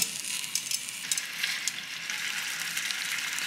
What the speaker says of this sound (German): Und dann braten wir einmal unsere Hähnchenkeulen an